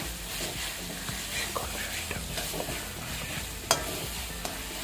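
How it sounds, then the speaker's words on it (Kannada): Cumin seeds fry in hot oil for a tomato chutney while a spoon stirs them, a soft steady sizzle broken by light scraping strokes and one sharper clatter near the end. "ಇದಕ್ಕೆ ಜೀರಿಗೆ ಸೇರಿಸ್ತಾ ಇದ್ದೀನಿ. ಸೇರಿಸಿ ಚೆನ್ನಾಗಿ ಫ್ರೈ ಮಾಡ್ಕೊಳ್ಳೋಣ."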